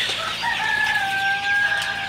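A rooster crows in a long drawn-out call inside a poultry shed, with other chickens clucking around it and a steady farmyard bed beneath, fairly close and continuous.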